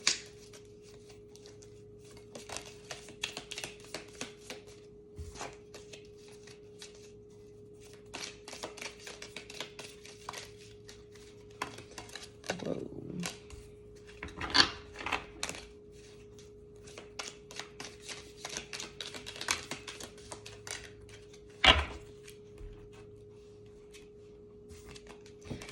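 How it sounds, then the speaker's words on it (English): A large deck of oracle cards being shuffled by hand, with soft riffling and scraping bursts scattered across the clip, fairly close but quiet, with a steady faint tone underneath and no speech. "It's a really big deck to shuffle."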